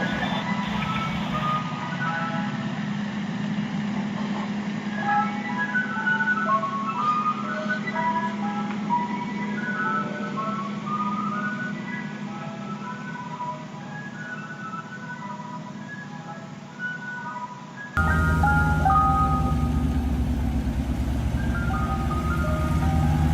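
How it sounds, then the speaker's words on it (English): An ice cream truck plays its tinkling music-box jingle at night, a repeating melody over a low engine hum, growing louder and closer toward the end. "I do not once remember ever seeing an ice cream truck operating past 6 p.m."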